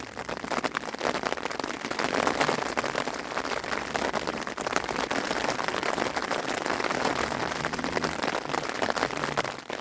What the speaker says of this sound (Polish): jest to nieco utrudnione ze względu na padający deszcz, który mnie trochę wkurza i nie pozwala zasnąć